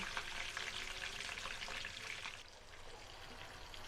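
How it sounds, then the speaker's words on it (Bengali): Hilsa fish pieces fry in hot oil in a pan, giving a steady, dense sizzle that carries on throughout and eases slightly toward the end, with no voices over it. "খুব বেশি কড়া করে ভাজবো না, দুই সাইড মিনিট খানিক করে ভেজে নেব।"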